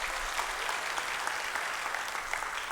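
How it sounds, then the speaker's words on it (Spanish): A church congregation applauds a guest preacher, with a steady wash of many hands clapping at moderate distance and no break for the whole stretch. "Recibámoslo con un fuerte aplauso"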